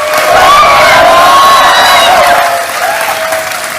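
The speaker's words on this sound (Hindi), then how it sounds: "तालियां बजती रहे इनके लिए।" A studio audience on a Hindi quiz show applauds loudly and continuously, with dense clapping and some cheers filling the whole span before it eases slightly toward the end.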